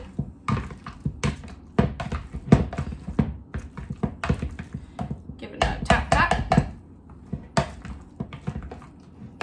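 Avocado mashed with a utensil against a bowl for guacamole, a steady run of close, irregular soft thuds and scraping taps repeated many times, with brief pauses between bursts.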